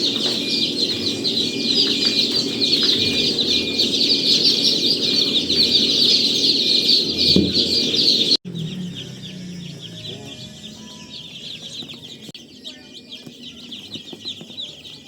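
Rhode Island Red chicks newly moved into their coop peep in a dense, continuous chorus of high chirps that stays steady, then thins and softens after a sudden cut partway through.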